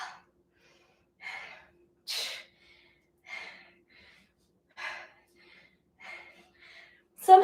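Heavy, rhythmic breaths during a glute workout, sharp inhales and exhales repeating every second or so, close and fairly loud, with quiet gaps between them.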